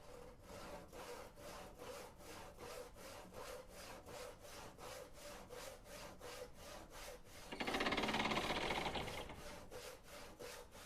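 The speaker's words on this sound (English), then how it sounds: "Sawing over here." Wood being sawn at a sawmill in the train game Railroads Online, a steady rhythmic back-and-forth rasp repeating throughout, with a louder, denser grinding burst near the end.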